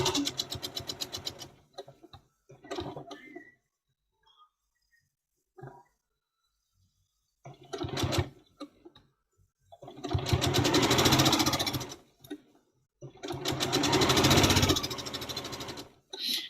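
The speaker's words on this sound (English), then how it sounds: "when you're putting these triangles through the sewing machine" A sewing machine stitches fabric triangles in several bursts, short runs first and then two longer, loud whirring passes, separated by quiet pauses.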